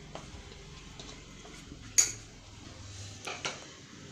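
A spoon stirring a carrot mixture into rice water in a metal pot, quiet, with a few distinct clinks and scrapes against the vessel over a low, faint background.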